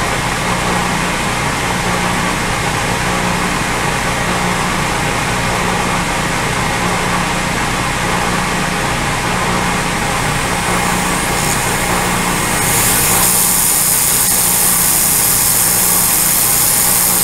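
A milling machine fly cutter with a carbide cutter takes a roughly 100-thousandths pass, producing a loud, continuous grinding drone that brightens and gets harsher toward the end, with no talking.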